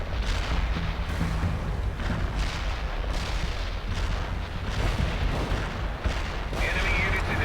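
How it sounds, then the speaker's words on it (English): Artillery firing in the World in Conflict video game, a steady barrage of heavy booms and rumbling explosions that continues for several seconds. "Artillery firing."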